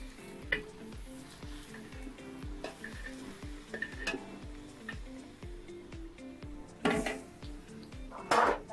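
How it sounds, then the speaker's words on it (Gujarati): Spices temper in hot oil over a clay stove with ginger, chili and garlic, a soft steady sizzle under repeated metal clinks of a stirring spoon against the pot, with a louder scraping burst near the end. "જો વઘાર છે મસ્ત લાગે છે"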